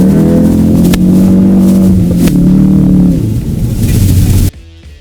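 A 2018 Ford Focus RS and a 727 hp Mustang accelerate hard from a standing start on snow, loud close engines revving up through gears with rising harmonic roar, then cutting off abruptly near the end.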